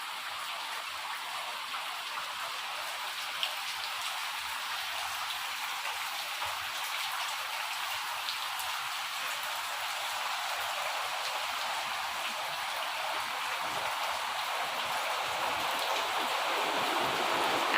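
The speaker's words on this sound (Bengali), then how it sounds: "আমার মনে হচ্ছে বৃষ্টি আরও বাড়বে" Rain falls steadily outdoors, a dense, even hiss of drops with occasional louder patters, moderately loud and unbroken throughout, with no talking.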